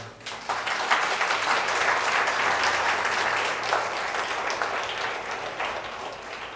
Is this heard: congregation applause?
yes